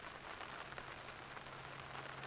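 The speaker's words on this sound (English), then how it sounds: "it's just a drizzle." Light drizzle falling on a tarp at a lakeside camp, a soft, constant patter of small drops with faint individual taps, quiet and steady throughout, with a low hum underneath and no speech.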